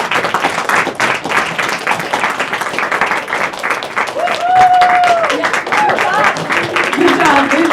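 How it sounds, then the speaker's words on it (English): Audience applause for the new Cactus team, dense steady clapping throughout with a few whoops and shouts rising over it toward the end. "So let's please give them another round of applause for this."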